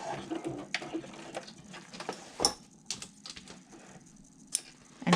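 A sewing machine backstitches the front panel of a garment, producing short bursts of quick mechanical ticking and clatter, close and fairly quiet, with a few sharper knocks between runs.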